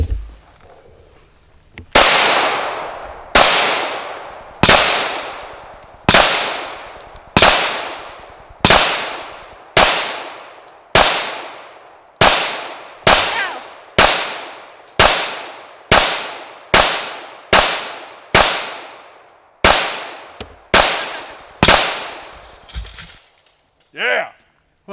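Glock 21 Gen 4 pistol firing .45 ACP: about eighteen sharp, loud shots in a steady rhythm at roughly one per second, each with a short ringing decay, followed by a faint clatter at the end.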